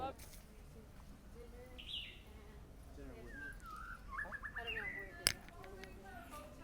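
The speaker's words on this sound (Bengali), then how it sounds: "পাখির গান শুনছেন?" Birds sing in a Hawaiian forest, with several chirps and short whistled calls at a moderate distance over a low ambient background, a few sharper notes standing out near the end.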